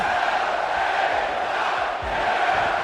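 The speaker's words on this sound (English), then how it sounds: "He knows how to get the crowd going." Video game wrestling crowd from WWE 2K24 roars with a steady, dense cheer that fills the arena, holding at a constant loud level with no break.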